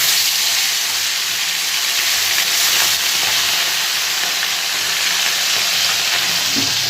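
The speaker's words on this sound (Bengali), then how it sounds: "তেলটা হয়ে গেছে গরম এবার মাছগুলো ভেজে নেব" Bhola fish pieces frying in hot oil in a wok, giving a steady, loud, bright sizzle that holds evenly throughout with no talking.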